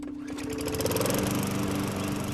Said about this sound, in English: Nick was outside mowing the lawn